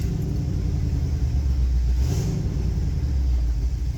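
A Ford 351W V8 in a classic catering truck idles steadily up close, a loud, continuous low rumble with a slight uneven pulse throughout.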